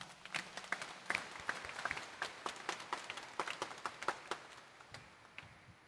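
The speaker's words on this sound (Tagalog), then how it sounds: "itaas nga ang kamay at pumalakpak ng mas malakas" Scattered, fairly faint hand claps from a church congregation at Sunday Mass, uneven and sparse rather than a full roar, continuing for several seconds in a roomy space.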